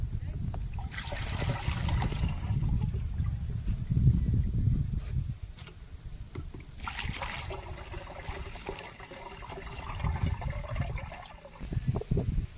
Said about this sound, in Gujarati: પછી પાણી આમાં નાખવાનું.